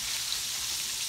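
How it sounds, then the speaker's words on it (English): Chicken gizzards, floured, fry in hot grease with a steady, even sizzle and crackle that stays constant and close throughout, with no voices. "These will be ready to go in the flour, in the grease in just a second."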